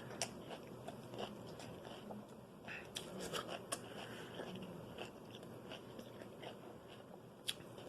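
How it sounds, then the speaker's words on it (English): Raw lettuce is bitten and chewed close up, giving steady soft crunching and crackling over about eight seconds, with a few sharper snaps standing out against a quiet background. "I finished chewing up that lettuce I had in my mouth"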